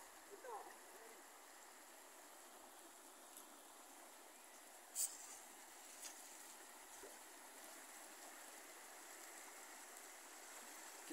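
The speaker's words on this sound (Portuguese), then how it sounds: "Olha o rio aqui, minha galera." River water flowing at the Minas Gerais and Bahia border, a faint, steady distant rush with a few small knocks and no talk.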